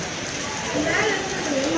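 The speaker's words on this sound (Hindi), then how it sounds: "हमारी माता की अब बारिश शुरू हो गई है।" Steady rain patters on a surface at Tirupati Balaji temple, a continuous broadband hiss that swells slightly partway through, with faint voices underneath.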